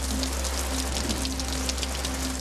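Steady rain falls without pause, a dense, even hiss with a constant low hum running underneath and no voices.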